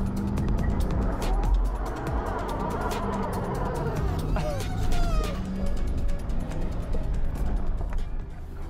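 A Dodge and a Range Rover are roped together in a tug of war, with the Dodge in low gear. Engines strain loudly under a dense, continuous roar, with squealing tones and faint tire noise, and a voice talks over it.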